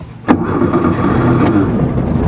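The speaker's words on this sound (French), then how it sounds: "on va démarrer déjà le véhicule" An old Volkswagen Beetle (Coccinelle) fires up with a quick starter churn, then settles straight into a loud, steady idle that carries on close by.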